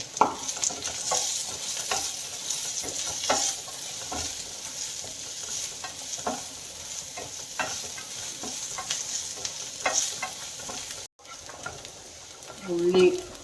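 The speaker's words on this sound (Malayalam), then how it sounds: "ഉള്ളി തേങ്ങാക്കൊത്തൊക്കെ ഏകദേശം മൂത്തിട്ടുണ്ട്." Onion and coconut pieces frying in a pan, a steady close sizzle with occasional stirring scrapes throughout and a brief dip near the end.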